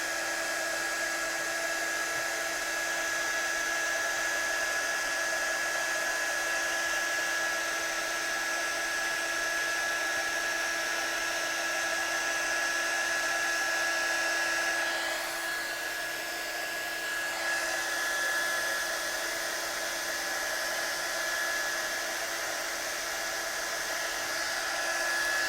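Heat tool blowing a steady, even whoosh onto stamped embossing powder to melt and set it, held close and continuous for the whole stretch, with a brief shift in tone midway and no talking.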